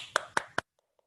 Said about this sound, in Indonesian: Kita berikan dulu tepuk tangan untuk kelompok 1 yuk.